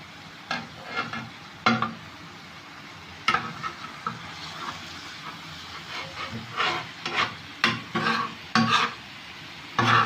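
Chicken pieces sizzling and frying on a hot tawa, Lahori street-style, with a steady hiss broken by sharp scraping and stirring clatters as the pieces are turned, close and moderately loud with no talk.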